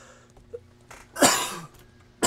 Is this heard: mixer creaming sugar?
no